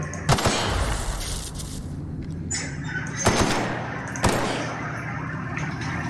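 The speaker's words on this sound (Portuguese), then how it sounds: "Não, vai dar muito tiro." Gunfire in the video game The Outer Worlds: a few sharp, loud shots crack out at irregular intervals over a steady rumbling game background, with no talking.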